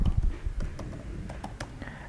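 Typing on a computer keyboard, a close, quick patter of individual key clicks with light thumps at an uneven rhythm.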